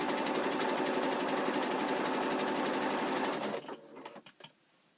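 A sewing machine runs a steady, fast stitch along a seam allowance to neaten it against fraying, humming continuously up close before stopping, followed by a few brief handling clicks.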